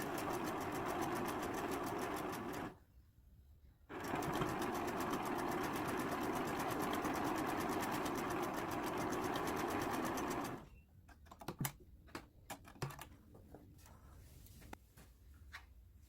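A sewing machine runs close by in long steady bursts as it stitches fabric pieces together, with one short pause in between. After it stops, scattered clicks and handling taps are heard.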